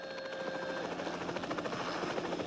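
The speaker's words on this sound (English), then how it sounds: "Stand by for helicopter takeoff." Helicopter taking off from a ship's flight deck platform, a steady, loud whirring rotor chop with a constant engine whine throughout, heard alone without talk.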